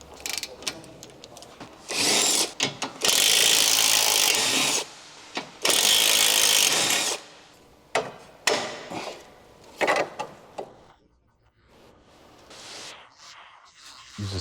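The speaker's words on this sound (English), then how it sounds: "using a 17mm socket, remove the nut securing the lower control arm to the ball joint" A tool with a 17mm socket works the nut that holds the lower control arm to the ball joint on a 2006-2011 Honda Civic. Loud whirring bursts of one to two seconds alternate with sharp mechanical clicks and rattles, then fade to quiet. No talking.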